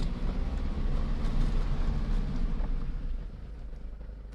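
Steady low rumble of road noise inside a moving Mazda 2 cabin, a dense broadband hum that holds level for several seconds and eases slightly toward the end, with no voices.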